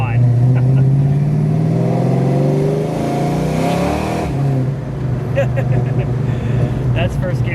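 A supercharged 1993 Ford Mustang Fox Body accelerates hard in first gear, its engine note rising steadily and loud from inside the cabin, then easing off with a brief shift and climbing again.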